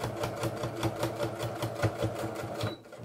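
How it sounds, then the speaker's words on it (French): A sewing machine stitching a fabric belt bag runs in a fast, steady mechanical patter close by, its needle rattling evenly before stopping abruptly near the end. "là, vous voyez que je couds."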